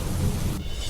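Heavy monsoon downpour in Lunawada, Santrampur and Kadana, Mahisagar district, Gujarat, with thunder: a steady, dense roar of rain and a low thunder rumble running throughout, loud and continuous.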